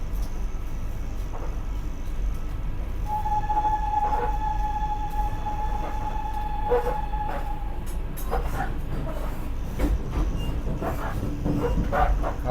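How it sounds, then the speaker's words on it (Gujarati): A Vande Bharat Express pulls out of Vadodara bound for Surat, with a low, steady rumble and hum heard from inside. A sustained tone rings for a few seconds, and scattered clicks and knocks follow near the end. "બરોડાથી આપણી જે ટ્રેન છે એ સુરત તરફ રવાના થવા માટે"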